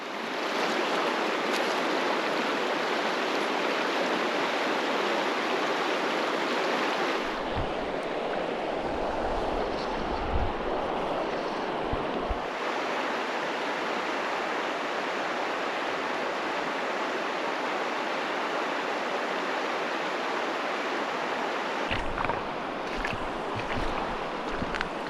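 Steady broadband rush of a river in Tombstone Territorial Park, Yukon, heard close and continuous while someone wades across it in water socks, with a few low splashy thumps partway through.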